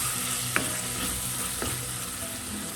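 Tomatoes being stirred in a frying pan while cooking bhindi masala, a soft steady sizzle with a couple of brief spoon scrapes against the pan, close and alone.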